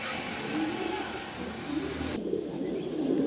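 A pair of Afshan grizzle pigeons coo softly in a coop, low repeated throaty murmurs close by over a steady background hiss.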